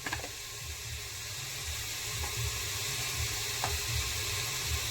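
Tomato and spices sizzle steadily in a hot pan for a Tamil chicken biryani, a continuous close frying hiss with faint clinks and no voices.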